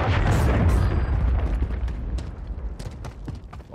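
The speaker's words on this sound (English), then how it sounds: "Hostiles launched a cruise missile." A cruise missile explosion in Modern Warfare III booms loudly at the start, then rumbles and fades over a few seconds with scattered crackling debris.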